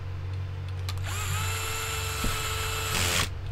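Small 7mm screws being driven into a drone frame with a power driver, a whining motor burst that rises and stops, then another short high whir near the end, close over a low background hum with no talking.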